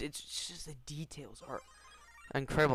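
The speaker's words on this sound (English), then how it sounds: "that's my phone going off" A phone rings with a high, steady electronic tone that enters partway through and continues under close conversational speech, moderately loud in the background.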